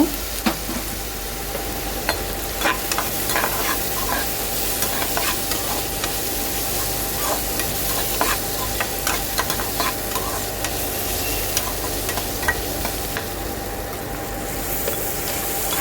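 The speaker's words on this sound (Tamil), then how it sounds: "மஞ்சத்தூள் ஆட் பண்ணி நல்லா கிண்டி விடுங்க" Onions with turmeric sizzle steadily in a hot pan while a utensil stirs and scrapes, giving frequent small clicks over the constant frying hiss.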